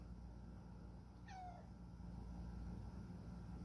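A pet cat gives a single short meow over a steady background hum indoors, fairly faint and brief, with no speech.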